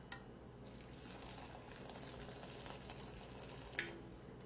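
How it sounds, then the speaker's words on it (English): Boiling water is poured from a kettle over trimmed pearl onions in a bowl, making a soft, steady splashing stream that runs for a few seconds at low volume with no talking. "I'm going to cover them with boiling water."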